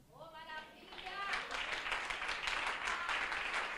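A church congregation breaks into applause during a sermon, dense clapping swelling after a moment of voice and holding steady and loud to the end.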